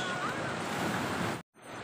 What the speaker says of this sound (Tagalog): ganda ng paghampas ng mga alon dito sa bato-bato na part ng Bagbag Beach